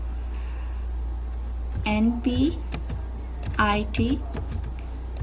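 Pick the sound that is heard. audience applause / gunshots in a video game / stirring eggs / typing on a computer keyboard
typing on a computer keyboard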